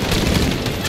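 A dense, roaring grenade blast in the video game Detroit: Become Human, a loud, sustained rumbling burst with crackling debris filling the whole moment, no voices over it.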